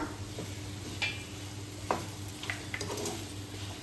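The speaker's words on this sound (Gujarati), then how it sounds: "હવે ખાંડને આપણે આ રીતે હલાવતીને મિક્સ કરતા રહીશું." Sugar stirred into moong dal halwa in a pan: soft, quiet scraping and a faint sizzle, with a few small clinks of the spoon, close by and without talk.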